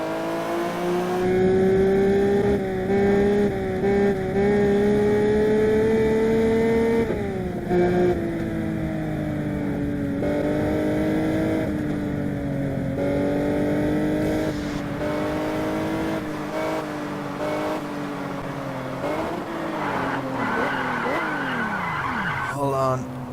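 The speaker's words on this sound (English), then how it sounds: "I want you guys to hear the engine." A car engine in the racing game Test Drive Unlimited revs and shifts through gears, pitch climbing then dropping at each change, with tire skids near the end, loud and close.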